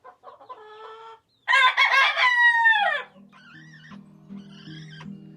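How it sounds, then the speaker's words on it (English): A rooster crows loudly and close by, with softer clucks and a low hum before and after the crow. "This is my main big rooster."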